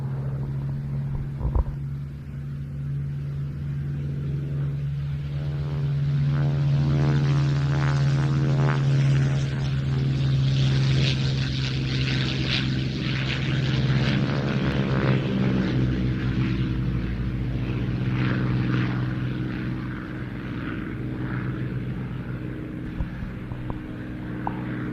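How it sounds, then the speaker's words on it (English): A US-marked Spitfire Mk 16 propeller aircraft rolls off a hard runway at an airfield, its loud steady engine drone swelling and shifting pitch as it moves, sustained throughout with no talk. "the US marked Spitfire 16 rolling now off the hard runway, again to go off and hold for a while before its slot."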